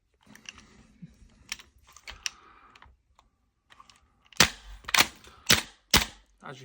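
Desert Eagle style gel blaster fitted with a heavy buffer, firing four sharp, loud snaps in quick succession after a stretch of softer handling clicks and rattles.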